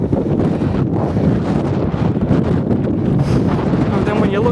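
Strong wind on the summit of Kinder Scout buffets the microphone with a constant low roar and rumble, gusting without a break.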